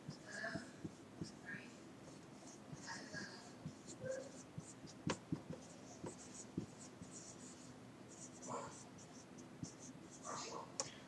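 Pen writing on paper while a negative-exponent math problem is worked out, giving faint scratchy strokes in short irregular bursts over a quiet room hum.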